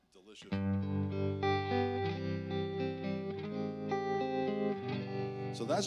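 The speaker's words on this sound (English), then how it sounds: "So that's just a Royalist with the reverb and tremolo from the Imperial" An electric guitar plays through a Royalist amp with reverb and tremolo from an Imperial amp, ringing sustained chords and notes that shimmer and pulse, with a lush reverb tail, loud and alone.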